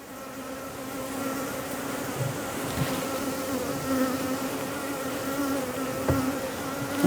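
A swarm of honey bees in a backyard hive drones in a loud, continuous buzz close to the listener, with a steady pitch that swells slightly.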